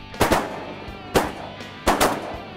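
Shotgun blasts ring out during a duck hunt in Arkansas, three loud, sharp reports spaced roughly a second apart, each followed by a short echo, close to the listener and with no talking.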